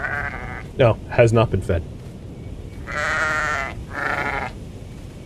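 Two drawn-out bleats from a black sheep in the sky-island sandbox survival game Aloft, each lasting about a second and sitting close and clear, after a short burst of speech.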